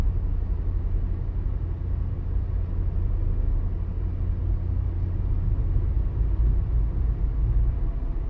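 Inside a car driving on a road in Curacao from the cruise ship terminal toward the airport, a steady low rumble of engine and road noise carries on without a break, with no talk.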